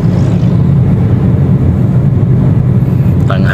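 Steady, loud road traffic rumble from inside a moving vehicle on a road heading toward Davao, a continuous low engine and tyre drone without pauses.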